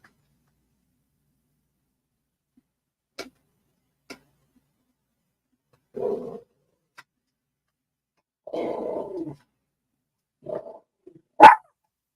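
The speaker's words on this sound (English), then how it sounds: "She's growling at me because I'm moving my feet." A dog growls in a quiet room, giving three or four short, low rumbling bursts separated by silence, with a sharper yelp-like sound near the end and a few faint ticks.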